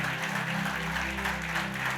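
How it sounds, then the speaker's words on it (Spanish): A church congregation applauds steadily throughout, a dense, even wash of clapping at constant loudness with no voices over it. "Si le va a aplaudir, apláudale fuerte."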